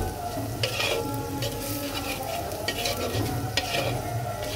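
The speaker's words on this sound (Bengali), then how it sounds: "ঠিক এই সময় দিয়ে দেব 1 চামচ হলুদের গুঁড়া, 1 চামচ ধনে গুঁড়া। এবার এটাকে মিক্সড করে দেব।" Turmeric and coriander powder being stirred into onions frying in a pan, a steady close sizzle with spoon scrapes and stirring strokes recurring throughout, no voices.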